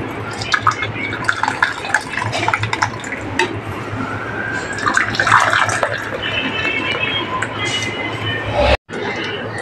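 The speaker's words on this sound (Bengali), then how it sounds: "আমি গাছে জলটা দিয়ে রেডি হয়ে নি" Plants are watered, with a splashing, trickling stream of water running for several seconds among light background household noise, ending in an abrupt cut.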